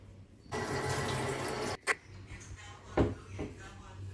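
Water splashes into an air fryer basket being cleaned, a brief close, steady pour of about a second, followed by a few clinks and light handling sounds.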